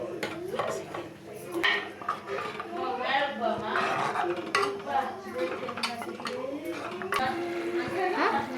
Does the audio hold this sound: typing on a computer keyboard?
no